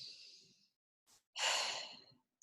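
A slow deep breath taken during a calm guided relaxation exercise, with a soft airy inhale, a brief pause, then a louder, longer exhale close to the microphone.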